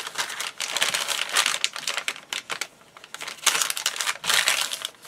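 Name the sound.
folding up a bag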